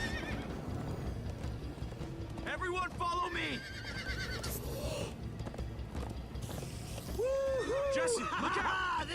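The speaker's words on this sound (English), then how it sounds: "Come on, horses!" Horses in the video game Minecraft Story Mode whinny and clop along at a gallop, with neighs rising over steady hoofbeats while characters shout and talk over the ride.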